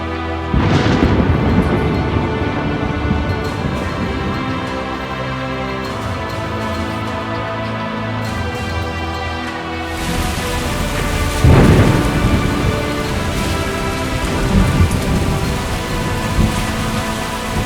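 A torrential African downpour with thunder: steady heavy rain hisses throughout while deep rumbles of thunder roll in, one loud crack and boom standing out near the middle, with no voices.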